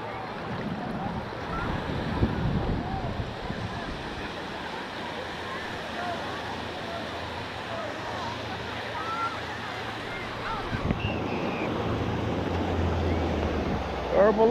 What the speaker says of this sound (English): Waves are okay.